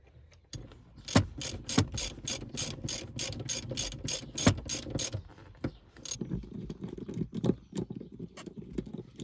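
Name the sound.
socket ratchet tightening nuts back onto bolts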